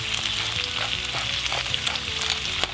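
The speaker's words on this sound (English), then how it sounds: "And slice the pork into the skillet." Sliced pork sizzles loudly in bacon fat in a skillet, a dense, steady frying hiss with occasional stirring scrapes, close up and with no talking.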